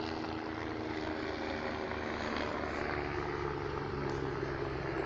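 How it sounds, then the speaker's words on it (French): A helicopter passes over a vegetable garden in late winter, its steady broadband rotor and engine drone loud and continuous throughout, with no talking. "Ah, excusez-moi pour l'hélicoptère là."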